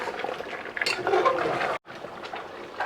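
A Bangladeshi chicken roast flavored with kewra water is stirred in a pot, giving close, wet sloshing and bubbling with a brief pause before the stirring resumes.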